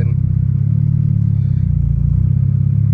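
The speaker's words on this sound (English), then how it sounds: "I miss the sound of this car just idling" Burton Racing cop kit car engine idling rough nearby, a loud low rumble with a lumpy, rhythmic chop that pulses steadily throughout and has no talk over it.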